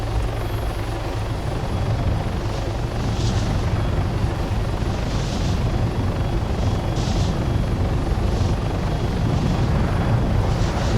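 A helicopter flying in the video game Arma 3, its steady rotor and engine drone loud and continuous throughout, with faint higher whines pulsing above.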